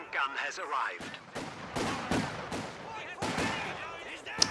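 Gunfire and explosions from a World War II strategy game match, with sharp broadband shots spaced about every half second to second, fairly loud, while a caster talks over the battle.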